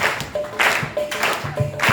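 Rhythmic hand clapping in a steady beat at a Hindu devotional gathering, fairly loud and close, with faint tones and voices in the background.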